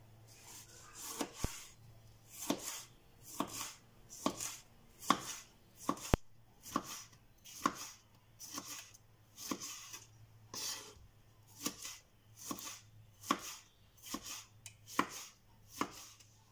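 Large tomatoes being chopped on a board: a steady series of about two dozen crisp knife thunks in an even, slightly quick rhythm, close and fairly quiet with a faint background hum.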